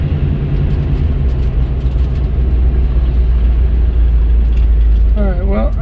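A Chevelle with a single-exhaust 350 V8 drones loud and steady at close range, a continuous heavy engine rumble with a brief rising whine near the end.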